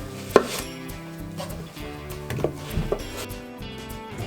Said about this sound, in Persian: خب پیازمون رو خورد میکنیم.